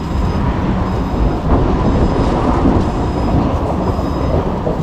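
A Singapore MRT train rolls past outdoors at night near Upper Seletar Reservoir, a loud, steady broadband rumble with a faint rail hiss lasting throughout, no voices.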